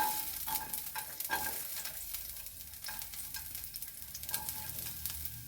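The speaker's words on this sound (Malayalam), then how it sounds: "നമ്മുടെ എണ്ണ ഇവിടെ ചൂടായി. നമുക്ക് തേങ്ങാക്കൊത്തിട്ട് കൊടുക്കാം." Coconut pieces fry in hot oil for a banana stem stir fry, giving a faint continuous sizzle with scattered crackles and occasional stirring clicks, quiet and without talk.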